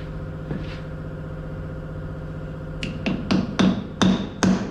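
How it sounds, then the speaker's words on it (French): Hammer strikes on a chisel against a tractor gearbox cover held by gasket glue: five sharp metallic taps in an uneven rhythm over a steady low engine hum, close and fairly loud. "je vais donner un petit coup de marteau dessus, un petit coup de burin"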